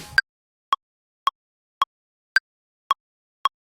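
A metronome click track ticks seven evenly spaced sharp clicks about half a second apart, with the accented clicks pitched higher than the rest, crisp and isolated against silence.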